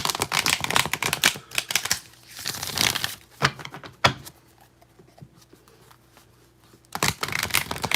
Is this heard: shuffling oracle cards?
yes